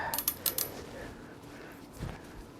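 A bolt thread is cut on the turbo manifold of an Abarth turbo Fiat Panda 100HP, producing a few faint metallic ratcheting clicks and a short creak close by, with no one speaking.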